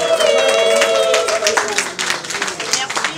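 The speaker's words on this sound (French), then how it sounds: "on peut tous ensemble applaudir les acteurs" An audience applauds actors at a Congolese cinema awards ceremony, clapping in quick, dense bursts, fairly close, mixed with some background voices.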